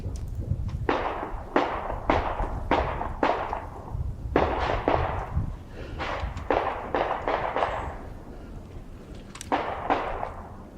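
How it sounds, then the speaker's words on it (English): Sharp cracks ring out one after another, each trailing a brief echo, with an irregular rhythm over a low rumbling background and no voices. "the sound of distant gunshots echoing through the night"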